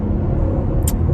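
A 2020 Porsche Panamera 4 engine rumbles loud and close under throttle, a dense low drone that holds steady throughout, with a brief faint high click near the end.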